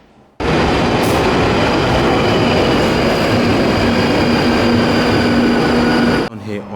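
London Underground Northern Line train at a Bank branch platform, a loud continuous rumble that starts abruptly and holds steady for several seconds, with a faint squeal and no talk.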